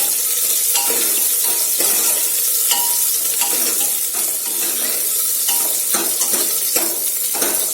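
Ridge gourd sautés in a pan with onion, giving a loud, continuous sizzle while a spoon stirs and scrapes in irregular knocks against the metal, close up and without talk.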